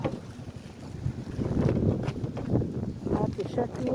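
Wind gusting outdoors in a garden, buffeting the microphone in loud, low rushes that rise and fall, with people talking over the blustery roar.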